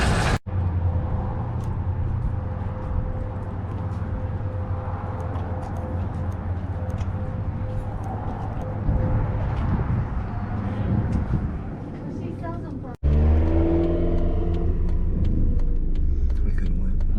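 A car carrying several people drives along a road in North Carolina, its engine and road noise forming a steady low rumble throughout, with a brief cut near the end before the engine drone resumes louder.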